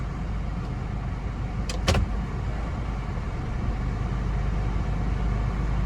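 A third-generation Honda CR-V with a 2.0-litre engine idles after a tune, holding a steady low rumble with an even hum, broken only by a brief high chirp partway through.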